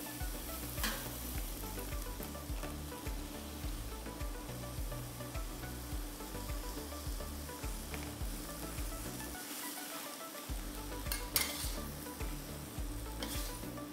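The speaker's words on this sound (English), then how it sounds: "Use the folding method to fold the vegetables while you stir fry." Kangkong with fermented beancurd is stir-fried and folded in a hot pan. A quiet, steady sizzle runs throughout with rhythmic tossing and scraping strokes and a couple of sharper clinks.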